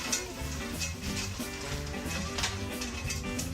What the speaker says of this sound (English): We're going to add our peas and carrots. Stir that around.